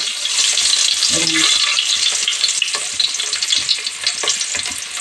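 Onions sizzling in a pan for Telugu-style pudina (mint) rice, a dense, loud, steady crackle with a few soft clinks and stirring bumps.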